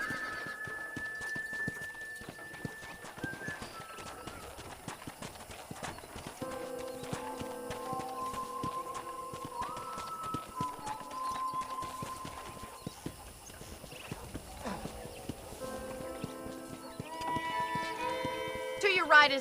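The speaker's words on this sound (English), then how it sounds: "let's see if you can still ride a horse." Horse hooves clip-clop steadily while riding in the video game Red Dead Redemption, a regular trotting rhythm mixed under game music, with an occasional whinny and talk partway through.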